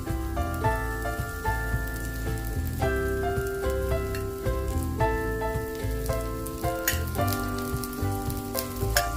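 Red pumpkin thalipeeth fries in a little oil on a hot griddle over medium heat, giving a steady close sizzle under a prominent melodic tune that runs throughout.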